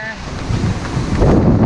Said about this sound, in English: Perfect storm out here. The waves are huge.